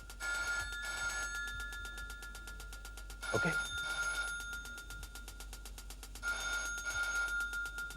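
Telephone ringing in a Hindi TV serial. Three clear, repeated electronic ring bursts sound close and steady, and a brief voice cuts in between them.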